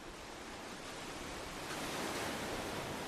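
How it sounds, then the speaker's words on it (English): Ocean waves sound effect, a broad steady wash of surf that swells slightly louder midway, continuous and even with no voices. "So if you want, I don't know, ocean waves."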